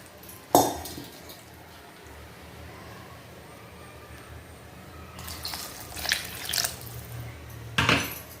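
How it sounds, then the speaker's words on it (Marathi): Water poured into a cooking pan of ridge gourd and moong dal, with a sharp splash near the start and a longer gush of splashing and sputtering toward the end, close by, with no talking. "इथे थोडं पाणी टाकून घेणार आहोत."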